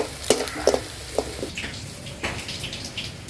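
Vegetables and mustard seeds sautéing in a hot pan, with short crackling bursts and splatters over a steady sizzle, close and moderately loud with no voices.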